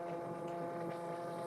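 A homemade rock tumbler's motor running steadily in a garage, a continuous close hum with a droning whir that holds even throughout, with no voices.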